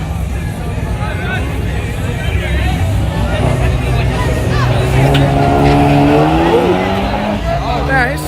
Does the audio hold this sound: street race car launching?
yes